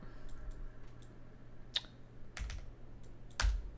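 Computer keyboard typing and mouse clicking during editing, with sparse, close, crisp clicks and a few louder key strikes spread irregularly over a quiet room hum.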